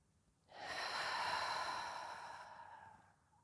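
One long, deep inhaled breath taken during a yoga stretch, a close, soft airy rush that swells and then fades slowly, alone with no talking.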